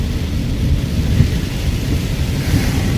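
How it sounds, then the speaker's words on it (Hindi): Heavy rain pours steadily during a night drive toward Naran, a dense, even roar with a deep low rumble that stays loud throughout, no voices over it. "बारिश ही बारिश और काफ़ी देर की लगी हुई है जी बारिश,"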